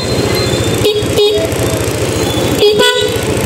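A faulty car horn sounds in short, uneven toots, cutting in and out twice over a running engine, as if only partly working.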